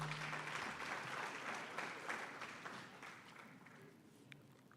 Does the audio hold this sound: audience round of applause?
yes